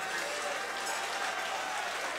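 Applause and cheering from a boxing crowd at a ringside fight night for fighter Tony 'The Warhammer' Warren, a steady, dense wash of clapping that fills the whole moment without a break.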